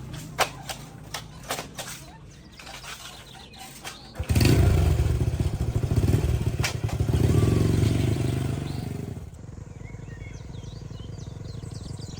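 An old green motorcycle is ridden, its engine starting with a few sharp clatters and then pulling away in a loud, rough, steady rumble before settling into a fainter, more distant drone.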